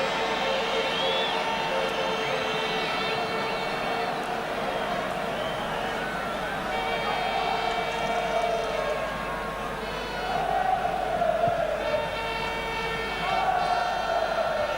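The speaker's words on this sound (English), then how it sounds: "Crowd making so much noise, they don't hear the referee's whistle a lot of the time" A large football stadium crowd roaring throughout the Feyenoord versus Tottenham UEFA Cup final, a constant distant wash of noise with swelling chants, under a commentator speaking.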